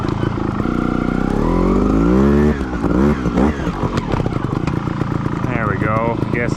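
Sherco 300 ST trial motorcycle, a 2021 factory model, ridden on a pillow line, with a loud, close engine that revs and changes pitch throughout while someone talks over it.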